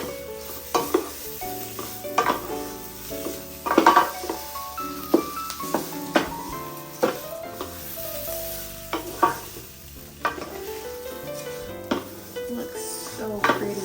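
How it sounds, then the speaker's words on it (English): Turkey goes into a pot for jambalaya and sizzles steadily while a spoon stirs and clanks against the metal in irregular bursts, close and busy throughout. "I'm gonna put in my turkey."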